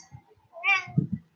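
A cat gives a single clear meow, close and fairly loud, with soft low vocal sounds from a person around it.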